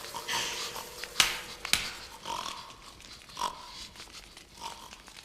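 Pigs grunting and snorting in short bursts, a few sharper squeals standing out among low, rough grunts, moderately close with some background ambience.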